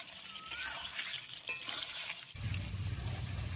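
Chicken stir-frying in a pan on low heat, a steady soft sizzle with scraping stirs, louder and fuller toward the end, no talking.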